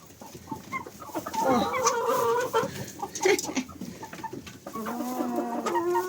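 Several chickens eating fat cluck and squawk close by in a busy, overlapping chorus, with a few drawn-out calls rising above the steady chatter.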